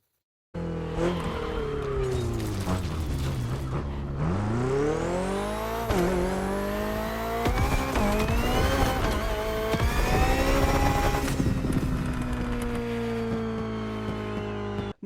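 BMW hybrid car in the racing game Motorfest roaring down a straightaway, a loud continuous engine note rising and falling through gear shifts, with tire noise.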